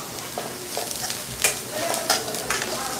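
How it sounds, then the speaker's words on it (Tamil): Mushroom gravy ingredients sautéing until brown in a pan, with a close, continuous sizzle and several sharp scraping stirs in quick succession over a few seconds. "நல்லா ப்ரௌனாக வதக்கிக்கலாம்"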